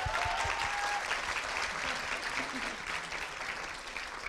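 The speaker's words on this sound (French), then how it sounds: "la meilleure manière de finir, c'est de les applaudir et de les encourager encore bien fort" An audience at a thesis presentation contest final gives sustained applause, dense even clapping that stays full and fades slightly toward the end.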